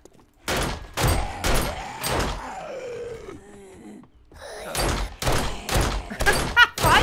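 Small gun firing in a survival video game (Alpha 21.2 multiplayer): sharp, loud shots in two bursts, several in quick succession, separated by a groaning creature sound and a brief pause.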